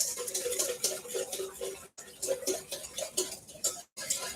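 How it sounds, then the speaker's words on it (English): Spoon or spatula stirring plant-based protein with sweet and smoky seasoning in a bowl, producing soft repeated scraping and clinking strokes at close range with steady rhythm, interrupted by two brief pauses. "So I'm just going to mix it up like this."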